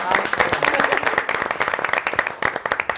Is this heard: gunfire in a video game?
no